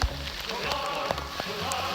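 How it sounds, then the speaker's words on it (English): Steady heavy rain with a dense, hissing wash of drops, loud and continuous with a few sharper splashes. "Just thought you'd like to see the downpour."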